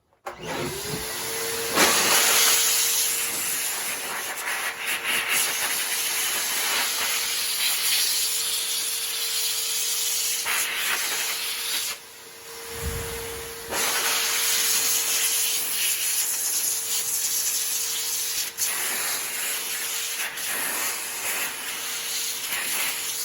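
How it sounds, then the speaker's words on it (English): Compressed air blasting gunk out of the paper air filter from a 2000 Toyota Sienna, a loud, steady hiss running almost unbroken for over twenty seconds with a short pause midway, no talking. "Now I'm just going to blow out all the gunk over here"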